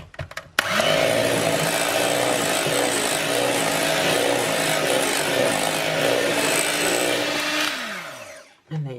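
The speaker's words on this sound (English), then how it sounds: "we'll just give it a final whisk" An electric whisk whirs steadily and loudly for about eight seconds, beating low-carb chocolate mousse in a bowl, then cuts off near the end.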